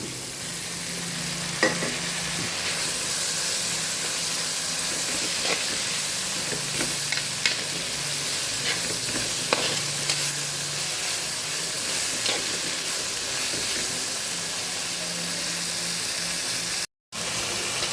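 Tomatoes hit a hot frying pan for a dried prawn curry, giving a steady close sizzle and hiss with occasional stirring scrapes, no voices, ending in a brief cut of silence near the close.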